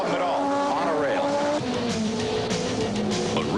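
A race car brakes late into a corner, its engine note falling sharply in pitch while tires squeal, followed by other cars passing loudly nearby.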